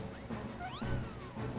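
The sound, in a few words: chocobo chick chirping in video game Final Fantasy XIII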